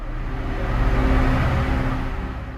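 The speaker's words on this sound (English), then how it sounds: "The takeoff begins with the engines roaring to life, creating a thunderous sound as all 8 Pratt & Whitney turbofan engines spool up." All eight Pratt & Whitney turbofan engines of a B-52 bomber spool up for takeoff, a loud, dense, continuous roar that swells slightly and holds steady.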